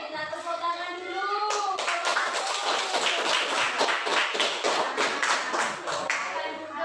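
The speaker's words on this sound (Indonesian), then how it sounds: "Kita tepuk tangan dulu" Classroom group clapping their hands together in a lively burst for about five seconds, starting right after a voice speaks, with nearby voices mixed in.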